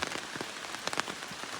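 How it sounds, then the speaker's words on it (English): Steady rain patters on a surface at a mountain campsite, with scattered individual drops ticking close by over a continuous soft hiss. "the rain will slack off again"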